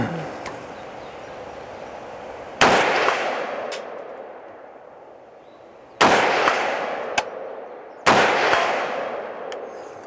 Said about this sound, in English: So let's put some bullets down range and we'll see what we get.